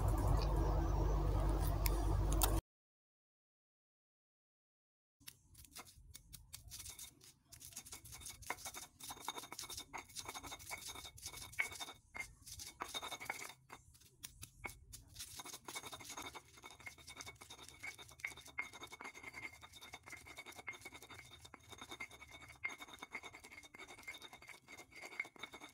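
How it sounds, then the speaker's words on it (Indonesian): Garlic, salt and MSG ground together with a mortar and pestle. After a brief silence come close, repeated scraping and grinding strokes in an uneven rhythm, quiet overall. "Nah, ini kita ulek sampai dia halus."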